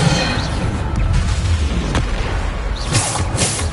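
Bombarda explosion spells in Hogwarts Legacy: a few heavy booms and crashing impacts with rumbling debris, loud and close amid continuous game-combat noise.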